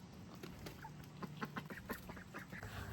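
Cayuga and Indian runner ducks quack repeatedly in a rapid, uneven series of short nasal calls, fairly close over a low steady background murmur with no talking.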